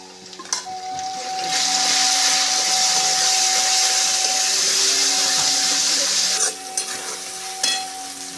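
A loud, hissing sizzle swells up as tomato gravy hits frying onions in a hot pan, then continues steadily with a faint tone humming underneath and occasional clinks.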